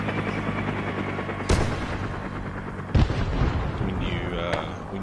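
Booming airstrike explosions and gunfire from a military shooter game on a rescue mission: two heavy blasts land about a second and a half apart over a continuous rumbling battle bed, with a brief whistling sweep near the end.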